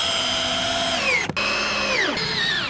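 A power drill drives screws into a wooden ramp being built for electric dirt bike jumps, giving a loud, steady motor whine that cuts out briefly midway, then resumes and winds down in pitch near the end.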